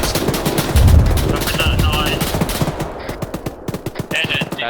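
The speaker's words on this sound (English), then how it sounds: "Shots northeast, shots northeast." Gunfire in the military shooter Arma plays as rapid, dense bursts of automatic shots and scattered single reports, loud and continuous, with radio-style voices talking over the firefight.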